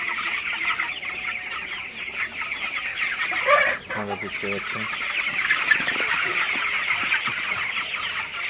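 Broiler chickens about 21 days old clucking and chirping steadily in a poultry shed at night, a dense continuous flock chatter with someone speaking briefly over it.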